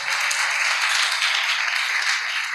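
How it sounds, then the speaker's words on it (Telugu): A church congregation applauds loudly during a Sunday sermon, a dense, sustained wash of many hands clapping at once, steady and close throughout with no break. "చప్పట్లు కొట్టాలి గట్టిగా."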